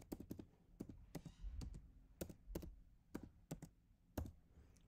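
Typing on a computer keyboard during a lab exercise, with sharp, close key clicks in irregular short bursts and brief pauses, fairly faint and without speech.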